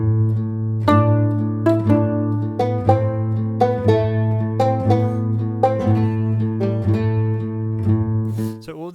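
Tavern-style folk tune with a steady low bass chug holding a constant pulse under plucked melody notes, a synthesized mix of several instruments that is bright, upfront and free of voices.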